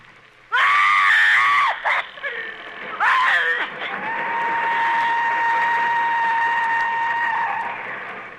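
An actress letting out a loud, piercing, high-pitched scream in a radio drama bedroom attack scene, a sustained shriek followed by a second cry that settles into a long wavering, whistle-like tone, close and dominant.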